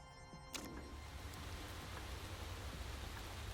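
Steady, dense rain hisses continuously during a wet practice session in the racing management game Motorsport Manager, starting abruptly after a brief moment and holding an even, moderately loud wash throughout.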